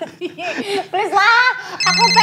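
A telephone rings with a steady, loud electronic ringtone that cuts in near the end, following laughter and lively conversation among people close by.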